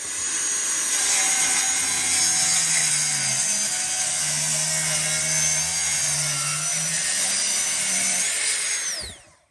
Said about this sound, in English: making a plunge cut with the track saw to remove it